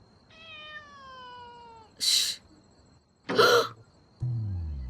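A cat indoors gives one long, drawn-out falling meow, followed by two short breathy bursts and then a low rumbling noise, all close and fairly quiet.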